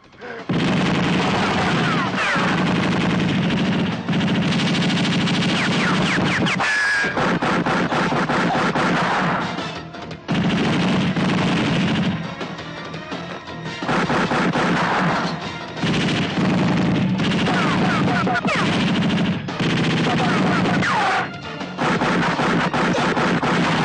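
Sustained loud gunfire with dense bursts and booms nearly nonstop, punctuated by brief lulls and shouting voices.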